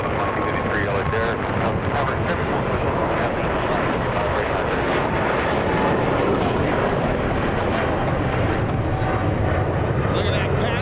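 Jet airliner in panda livery at Los Angeles International Airport bound for Shanghai, a broad roaring engine rumble with wind buffeting on the microphone, sustained throughout while voices talk over it.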